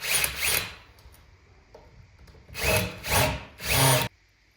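A cordless power drill backing out the screws of a door deadbolt, with one brief whirring burst, a quiet stretch with faint handling clicks, and then three close whirring bursts in quick succession.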